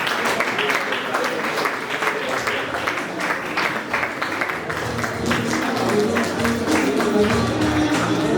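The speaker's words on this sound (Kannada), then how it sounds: "ಎಲ್ಲರೂ ಜೋರಾದ ಚಪ್ಪಾಳೆ ಮೂಲಕ" Loud audience applause at a World Water Day and legal awareness programme inauguration, a dense steady clatter of many hands clapping that continues for several seconds.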